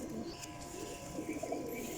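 Golden teddy cross pigeons coo in low, murmuring bursts close by, over a faint steady background hum.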